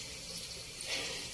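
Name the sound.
pouring hot water into gravy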